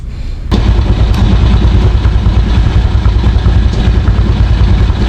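A Motorstar motorcycle engine, recently fitted with an air filter and running slightly out of tune, starts abruptly after a brief pause and then idles loudly and steadily nearby with a continuous low rumble.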